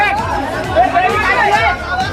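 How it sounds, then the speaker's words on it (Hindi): A packed, bustling crowd fills the air with loud, steady chatter and overlapping voices, close by and without pause for about two seconds. "कितना भीड़ है"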